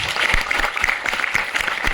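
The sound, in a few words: audience applause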